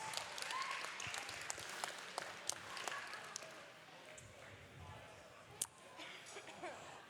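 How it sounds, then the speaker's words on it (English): Crowd applause at an Australian strongman competition, greeting the under 82s women's class, a dense sustained patter of clapping with scattered sharper claps, moderately close and steady throughout. "Ladies and gentlemen, a round of applause for our under 82s ladies class."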